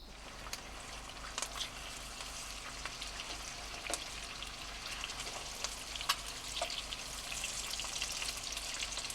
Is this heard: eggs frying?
yes